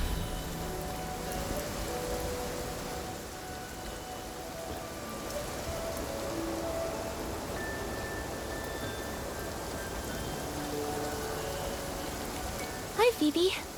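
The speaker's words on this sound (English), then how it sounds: "A rainy day is perfect for picking rainy orchids." Steady rain falls in the video game Infinity Nikki, a soft, even hiss of drops heard alone at low level, with a brief sharper sound near the end.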